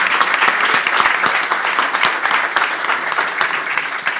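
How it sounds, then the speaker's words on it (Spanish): Steady, dense clapping from a crowd, sustained and loud for several seconds without a break. "los quiero recompensar pidiéndoles a todos un fuerte aplauso."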